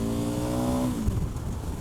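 KTM 1290 Super Adventure motorcycle engine revving hard with a rising, harmonic-rich roar, then a gear change drops the pitch into a rougher, loud exhaust note close by.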